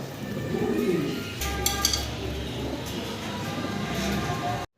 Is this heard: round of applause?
no